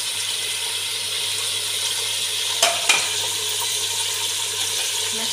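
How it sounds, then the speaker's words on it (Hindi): Mutton sizzling and frying in a pot as it is stirred, a constant close hiss with two sharp clinks of the spoon against the metal midway through. "हमने 5 मिनट तक गोश्त अच्छी तरह फोड़ लिया है"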